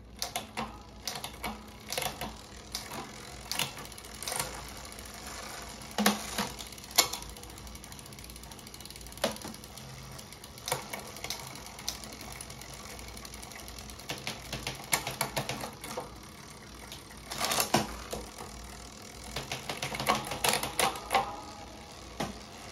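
A bicycle's gears shift and its freewheel ratchets in bursts of rapid mechanical clicking. The clicks come in irregular clusters with brief pauses between them, close and fairly quiet, with no voices.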